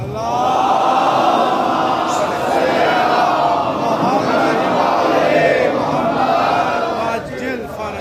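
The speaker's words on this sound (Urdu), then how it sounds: "نعرہ حیدری کی طرح کی بلند صلوات" A large congregation at a religious majlis loudly chants salawat in unison, like a Naara-e-Haidari, a sustained, dense wall of many voices that swells and holds for several seconds before easing slightly near the end.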